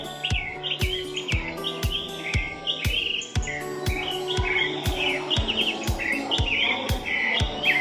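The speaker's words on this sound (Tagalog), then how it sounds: "so may marinig ka pang mga huli ng mga ibon" Many birds chirp and sing at once in a forest exhibit inside a natural history museum, sharp repeated calls and warbling phrases filling a steady, lively chorus close by with no talk.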